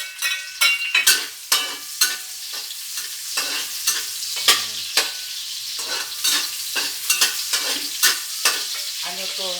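Garlic and onion sizzle in hot oil for squid adobo while a utensil stirs and scrapes the pan in repeated sharp strokes over the constant frying hiss, close and without talk.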